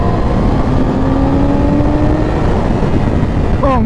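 A 2017 Yamaha R6 motorcycle engine drones under loud, constant wind roar, its tone climbing gradually and then rising sharply at the very end.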